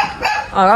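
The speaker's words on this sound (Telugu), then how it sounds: "కుక్కేమో మొరుగుతుంది." A dog gives a couple of short, close barks, the last one a longer, more tonal yelp, loud against a quiet background.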